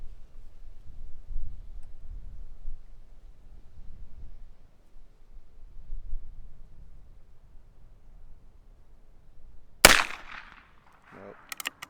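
A single sharp, loud report from a scoped Heritage Rough Rider Rancher .22 Magnum revolver cracks out after a long stretch of faint low rumbling, followed by a brief quieter rattle.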